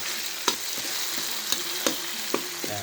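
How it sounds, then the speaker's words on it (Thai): Pounded chili and garlic sizzle and fry in a pan for Thai stir-fried basil beef, a continuous crackle broken by a few sharp clanks of a spatula against the pan. "เอาพริกกับกระเทียมที่เราโขลกไว้ครับ ใส่ลงไป"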